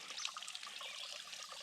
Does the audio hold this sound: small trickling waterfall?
yes